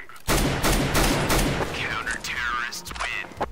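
An AK rifle fires in Counter-Strike: Global Offensive, with several loud close shots in quick bursts during the first half, followed by quieter gameplay sounds and electronic tones.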